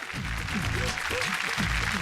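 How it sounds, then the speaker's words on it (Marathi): Steady crowd applause from a studio audience at a Marathi television game show, dense and continuous for about two seconds, with voices or cheering rising and falling over the clapping. "एकदा जोरदार टाळ्या होऊन जाऊ देत"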